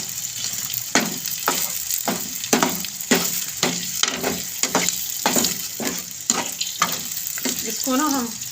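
Bitter gourd and meat fry in a wok over low heat, giving a steady loud sizzle broken by repeated sharp scraping stirs about once a second, with a brief voice near the end.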